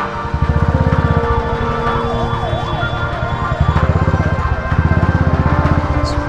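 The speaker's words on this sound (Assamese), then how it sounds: "এম্বুলেঞ্চ আছে ইমাৰ্জেঞ্চি আছে" An ambulance siren wails in rising and falling sweeps over a steady low rumble of idling engines and traffic close by.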